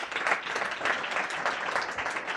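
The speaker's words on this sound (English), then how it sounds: "Please give her another round of applause." Audience applause at a start-up networking night, steady dense clapping from a crowd sustained throughout at moderate level, with no talking over it.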